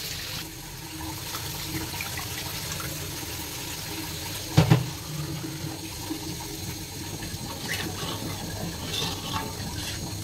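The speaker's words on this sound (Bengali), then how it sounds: "এখন এই যে জল দিয়ে দিচ্ছে" Water is poured into cooked spice masala in a pan while making a thin tengra fish curry. A soft, steady watery rush runs throughout, with a brief louder splash partway through.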